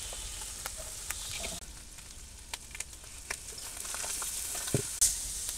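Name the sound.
frying ginger-garlic and onion paste in pan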